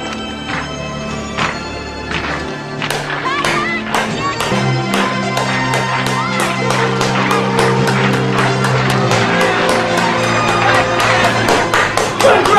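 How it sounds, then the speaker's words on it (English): A slow clap builds as sharp single handclaps start spaced apart and gradually speed up into steadier clapping, heard over prominent background music. "You perfected the slow clap!"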